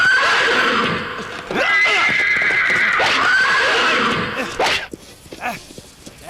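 A horse neighs loudly and close in several drawn-out whinnies over a few seconds, with hoof movement mixed in. The sound thins to scattered quieter noises at the end.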